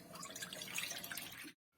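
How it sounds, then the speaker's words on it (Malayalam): Rice water is poured into a thick-bottomed pot. A faint, steady splash of liquid runs for about a second and a half, then cuts off abruptly. "ഇനി നമുക്ക് അടി കട്ടിയുള്ള ഒരു പാത്രത്തിലേക്ക് കഞ്ഞിവെള്ളം ചൂടാക്കാനായിട്ട് ഒഴിക്കാം"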